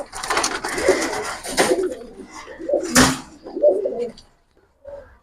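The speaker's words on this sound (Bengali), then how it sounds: "কবুতরটা ভাই কিরকম মার্শাল্লাহ অনেক সুন্দর দেখেন কবুতরটা" A Giribaz high flyer pigeon coos close by in a series of soft, throaty, repeated calls, with a brief pause before a final short coo.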